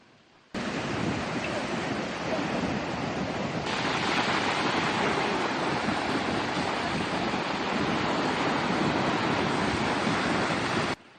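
Ocean surf roars steadily during a morning surf lesson, a continuous broad wash of breaking waves with heavy wind rumble on the microphone, loud and close throughout.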